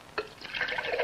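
Water poured into a can of Snowcrop orange juice concentrate, a short soft liquid splash and trickle lasting about a second, faint and alone.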